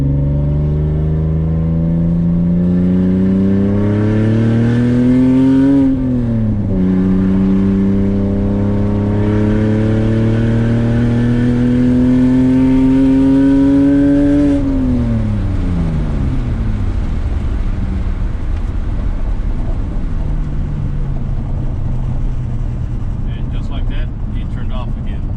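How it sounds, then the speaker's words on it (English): BMW E46 engine held at full throttle, a loud sustained drone that climbs in pitch, dips briefly, climbs again and then sags away as the engine loses power and fades down. "Car runs great, idles great, but when you go full throttle, it shuts off."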